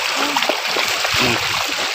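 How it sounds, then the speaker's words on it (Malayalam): Floodwater in Ettumanoor, Kottayam, rushing across a road as a stream: a loud, dense, continuous wash of flowing and splashing water close by, steady throughout. "ഇവിടെ ഒരു നീർച്ചാല് വരുന്നുണ്ടല്ലേ"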